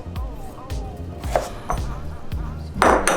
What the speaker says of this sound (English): I want to cut it in cubes